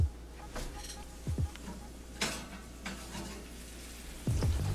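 Filet mignon steaks sizzle in a pan, a soft steady frying hiss broken by a few clattering knocks and low thumps, heard up close without talk.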